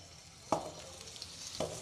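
Ghee heating in a pan for ashwagandha laddoo gives a soft steady sizzle, with two brief louder crackles partway through and no talk.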